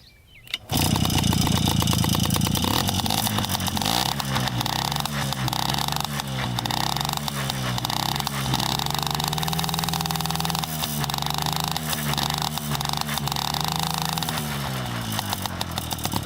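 A small dirt bike engine starts and then revs hard during a speed test, a close, loud, buzzy two-stroke-like whine rising and falling through throttle changes over sustained running.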